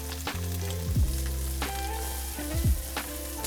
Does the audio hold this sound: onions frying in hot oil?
yes